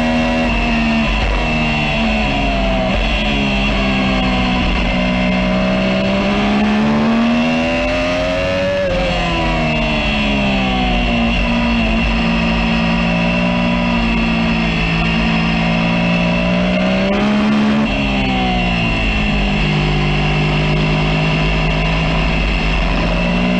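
Race car engine in a racing video game: a loud, continuous high-revving drone with rising and falling pitch as the car shifts and brakes, no voices over it.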